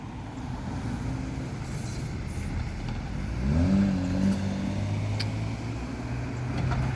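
A BMW car rolls past at low speed over a residential speed bump, its engine a steady mid-distance rumble with a brief thump as the tires cross the bump, over continuous background traffic noise.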